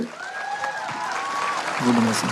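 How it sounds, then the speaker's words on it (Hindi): A seminar audience at a motivational event claps for an elderly woman, a steady wash of applause running throughout, with voices speaking and calling over it. "ताली तो बजा दो अम्मा के लिए"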